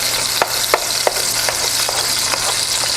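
Ground meat fries in a pan with a steady, dense sizzle. A few light scrapes and taps sound as it is broken up and stirred, close and with no voices.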